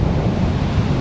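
Ocean waves pound the shore during a typhoon along the Patapat Viaduct coast in Ilocos Norte, a loud, dense rush of surf mixed with heavy wind buffeting the microphone.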